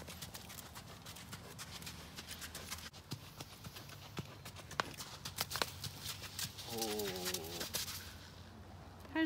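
Horse hooves clip-clop in a steady walking rhythm on the footing of a public riding arena, close and distinct, with a brief voice heard near the end.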